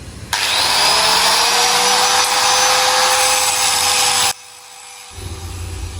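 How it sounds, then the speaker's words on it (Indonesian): An angle grinder grinds a steel workpiece during SMAW welding practice. It makes a loud, steady, rasping whine for about four seconds, then cuts off abruptly, leaving a lower hum. "Proses ini dengan metode mengikis material sedikit demi sedikit menggunakan batu gerinda yang berputar"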